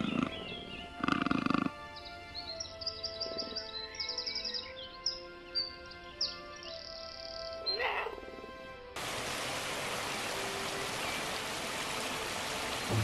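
Young wild cats at a hillside den in British Columbia give a string of small, high yowls and calls, close and fairly faint, then a steady hiss of running water or rain takes over the second half.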